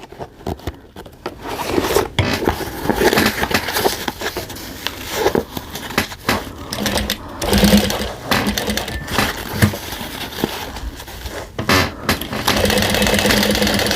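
Sewing machine stitching a bowler bag, close and loud, bursts of rapid whirring and needle clatter broken by short pauses, no talking.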